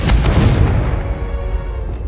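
A fiery Confringo spell blast in the video game Hogwarts Legacy, a loud booming burst at the start that rolls into a sustained crackling rumble and fades over about two seconds, with no talking.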